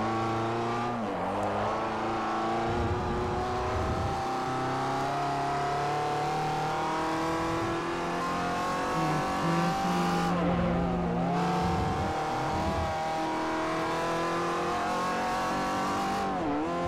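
Race car engine in Forza Motorsport 4, Class C European tour, drones loudly and continuously, rising and falling through revs with gear shifts and brief lifts off the throttle.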